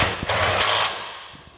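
A ratchet driving bolts back in to mount a charcoal canister on a 2020 Toyota Tundra during gooseneck hitch installation, a short burst of rapid close clicking that fades out.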